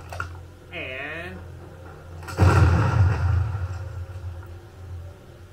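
A C4 charge detonates in Call of Duty Modern Warfare II, a loud booming blast with a rumbling tail following a brief earlier game sound, heard close and under a faint game background.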